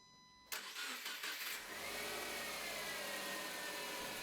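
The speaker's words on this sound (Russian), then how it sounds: "Запускаю двигатель." A car engine cranks and catches after a brief quiet lead-in, then settles into a steady idle, heard close and alone during a fuel injector pulse check.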